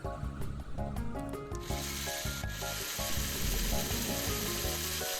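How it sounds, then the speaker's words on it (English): A motor drives a LEGO gear contraption in which spinning one gear turns them all, giving a steady, rapid whirring and grinding of plastic gears with a buzzing, rubbing texture that carries on continuously, close and moderately loud. "I'm going to hook it up to this motor."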